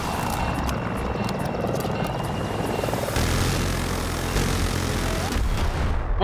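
Helicopter in a video game, its rotor and engine roaring continuously and loud throughout, with scattered gunfire-like bursts mixed into the dense noise.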